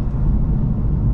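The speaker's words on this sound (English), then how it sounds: "I will do a 0 to 60" A 2023 Infiniti Q50 with a 300-horsepower engine accelerating from 0 to 60, heard as a steady, muffled low rumble of engine and road noise from inside the cabin, moderately loud and continuous throughout.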